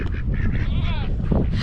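A goat bleats once on a farm in a volcano crater, a short wavering cry up close, with other animal calls and low background noise around it.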